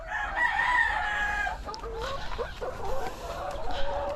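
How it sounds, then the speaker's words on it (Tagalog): Pet Dekalb Brown laying hens cluck busily while eating, close by, with a few drawn-out crowing-like calls mixed into the steady chatter. "kakain na yung mga manok ko tignan nyo to oh"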